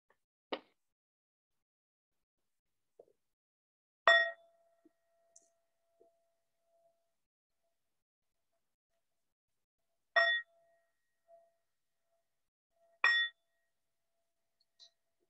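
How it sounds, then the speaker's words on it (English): A meditation bell rings four separate times at a slow, unhurried pace, each bright metallic strike decaying slowly into near silence in an otherwise quiet room. "I'm going to start this by ringing the bell as you are getting comfortable"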